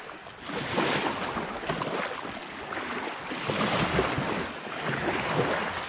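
A boat moves on the Ivankovo Reservoir near Konakovo on the Volga, sending a continuous wash of churning water and waves with steady wind noise and no voices.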